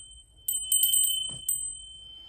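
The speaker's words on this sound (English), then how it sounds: "And we do ring a bell." A small handheld bell rung several times in a quiet room, bright clear strikes in a quick cluster followed by one more, each leaving a long ringing tone that fades slowly.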